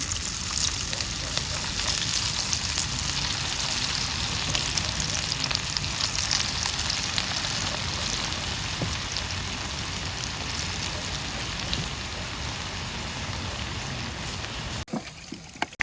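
Chinese pakoda frying in hot oil, a steady, loud, dense sizzle and crackle that continues unbroken and close for the whole stretch, ending with a brief clatter.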